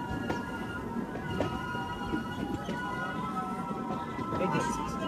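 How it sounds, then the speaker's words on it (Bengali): The Sairang–Kolkata Express rolls into Krishnanagar City Junction, a continuous low rumble of wheels and carriages with faint tonal whines and clicks, while someone talks over the noise. "এই যে বন্ধুরা আমাদের ট্রেন এখন প্রবেশ করছে কৃষ্ণনগর সিটি জংশনে 1 নম্বর প্ল্যাটফর্মে।"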